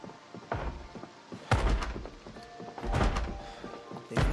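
Zombies pound on a back door in Project Zomboid, a series of heavy, hollow thuds arriving in uneven bursts about a second apart. The blows sound fairly close, with a low rumble lingering between them.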